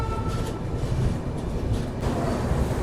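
Kerala SF Express train pulling out of Erode Junction, a continuous low rumble of rolling carriages with faint clatter, steady and fairly close throughout.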